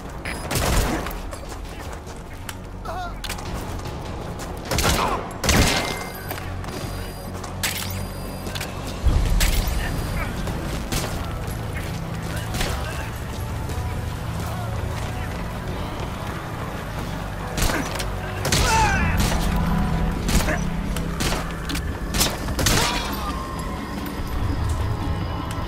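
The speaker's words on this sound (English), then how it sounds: "Слышу выстрелы! Откуда не ясно?" Repeated loud, unsuppressed gunshots in Metal Gear Solid V, sharp cracks in scattered bursts and volleys across a battlefield, alone without talk.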